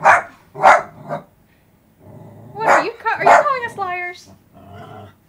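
A dog barks twice sharply near the start, then growls and yips under a conversation between two people talking over it.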